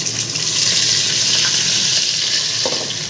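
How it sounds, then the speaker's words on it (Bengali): Potato pieces fry in hot oil with cumin seeds and a bay leaf, giving a loud, steady sizzle with stirring scrapes, close up and continuous before cutting off abruptly. "এবার আমি আলুগুলো ভেজে নেব।"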